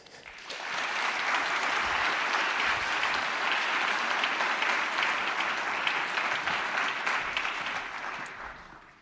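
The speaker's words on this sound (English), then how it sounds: "to all of you I ask you to welcome with a very warm applause" An audience at a forum gives warm applause welcoming a speaker onto the stage: dense, sustained clapping that swells quickly, holds steady for several seconds, then tapers off.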